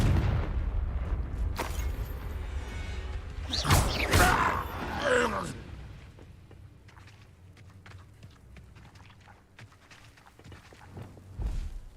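A Confringo spell blasts in Hogwarts Legacy, a loud fiery burst swelling and crackling in the middle, set among scattered thuds, footsteps and quieter combat effects before and after.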